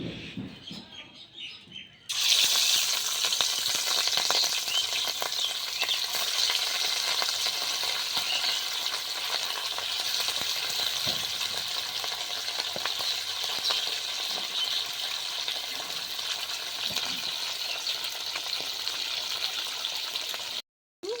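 Pieces of rohu fish frying in hot oil for a masala curry, a steady loud sizzle that starts abruptly after a quiet moment and crackles on unbroken, with faint chirping in the background.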